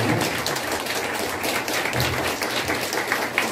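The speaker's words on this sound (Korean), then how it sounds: "모두 박수 쳐주시기 바랍니다." A church congregation applauding at a dedication service, dense continuous clapping filling the room at a steady level with no talk over it.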